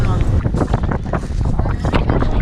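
Strong wind buffets the microphone on a cross-country road trip through open country from Auburn to Utah, a loud continuous rumbling roar that covers the whole clip.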